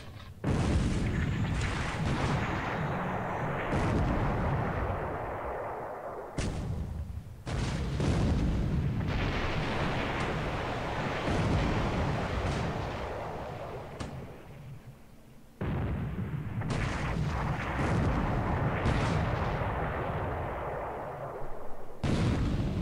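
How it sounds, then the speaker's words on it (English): Naval shellfire in the War in the Pacific video game, with a 14-inch shell striking near the waterline, sounds as long, heavy booming salvos. Loud rumbling bursts follow each other, separated by brief sharp cutoffs. "Plus a 14-inch shell hit to the waterline."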